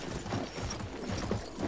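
Continuous hoof clip-clop from a horse in a first-person shooter game, a steady dense patter mixed with broadband game noise, with no talk over it.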